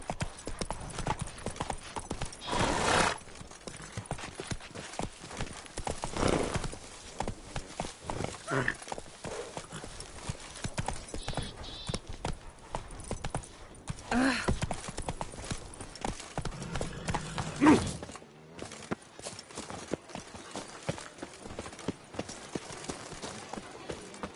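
Roach, Geralt's horse in The Witcher 3 on PS5, gallops along in a fast, steady rhythm of hoofbeat clip-clops. The hooves carry on throughout, mixed with other game sounds and a brief lull near the end.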